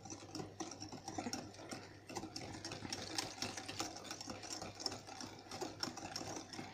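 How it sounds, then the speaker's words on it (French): Brownie batter is whisked by hand in a bowl, making a continuous rapid rhythmic scraping and tapping that stays close and steady throughout, with no talking. "Vous mélangez à l'aide d'un fouet jusqu'à l'obtention d'une pâte lisse et onctueuse."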